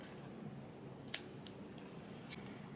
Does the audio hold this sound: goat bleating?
no